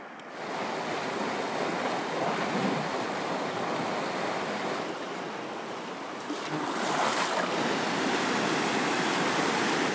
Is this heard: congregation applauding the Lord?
no